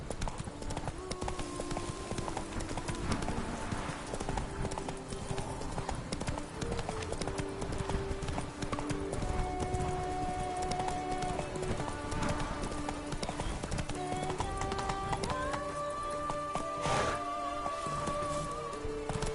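A horse gallops in The Witcher 3 video game, its hooves pounding in a fast, steady clip-clop rhythm over game music and ambient sound.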